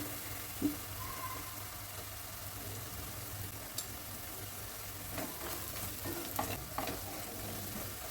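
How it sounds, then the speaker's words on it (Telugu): Chili powder frying lightly in oil while egg curry is made, a soft, steady sizzle with occasional faint scrapes of stirring, quiet and close, with no voices. "కారం ఏంటంటే కొంచెం ఆయిల్లో లైట్గా ఇలా ఫ్రై కానివ్వాలి"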